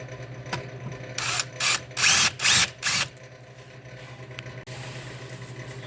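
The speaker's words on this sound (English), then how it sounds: "let's get this rivet drilled out" A power drill bores out a rivet on the side skirt of an Audi B5 S4, whirring in several short, loud bursts near the middle, with a steady low hum before and after.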